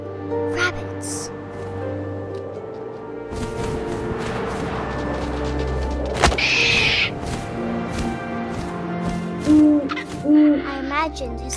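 An owl hoots in the What Remains of Edith Finch video game, a clear tonal call rising over wind, ambient game sounds and a low rumble, with narration-like voices and a couple of short hoots near the end.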